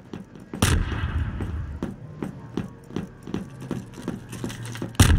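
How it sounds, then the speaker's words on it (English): Tri-fighter blaster fire in a video game, heard as a steady stream of sharp repeating shots and thuds at close range, with a loud burst at the start and another at the end. "I'm taking fucking tri-fighter fire!"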